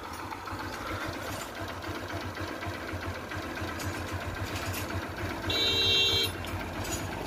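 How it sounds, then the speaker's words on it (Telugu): A freshly rebuilt Honda Shine motorcycle engine runs at a steady idle with an even, buzzing putter throughout, and a brief high whine rises near the end. "ఒకసారి ఇంజన్ సౌండ్ అయితే వినండి ఫ్రెండ్స్"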